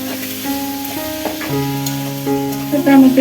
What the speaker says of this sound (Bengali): পেঁয়াজগুলো ভেজে নিয়েছি এখন একটা টমেটো কুচি দিয়ে দিলাম